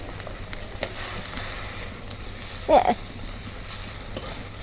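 Small river bata fish crackle in hot oil, a low steady sizzle with scattered pops and one brief louder clatter of stirring or turning near the middle, fairly quiet and close.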